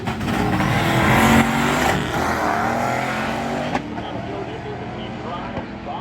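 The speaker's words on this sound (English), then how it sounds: "Mustang goes for 718 at 97 miles an hour, and the Dart goes 85 mile an hour to an 88" Ford Mustang and Dodge Dart drag racing down the strip, loud engine roar peaking early then fading into distance, with crowd and track ambience underneath.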